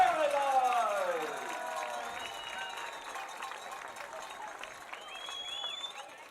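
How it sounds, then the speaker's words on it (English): Soccer crowd at the Premier Sports Campus in Lakewood Ranch cheering during a playoff match, a sustained, moderately distant roar with scattered clapping and shouts that is loudest at the start and then holds steady under a public-address voice. "Another good crowd here at the Premier Sports Campus as they cheer on their team"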